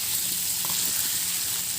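Chicken for a curry is stirred while frying in hot oil in a pan, making a steady, close hiss of sizzling with faint scraping.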